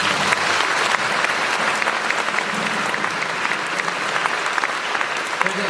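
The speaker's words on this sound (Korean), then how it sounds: "여러분 큰 박수 한번 보내주세요." Concert audience at a tribute show in Andong gives sustained, dense applause, a continuous wash of many hands clapping with scattered crowd noise.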